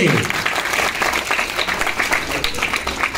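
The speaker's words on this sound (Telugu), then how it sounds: "చప్పట్లు కొట్టండి" Audience clapping in a Telugu classroom or lecture setting, a steady dense burst of applause that fills the full few seconds at close range, with a bit of crowd murmur mixed in.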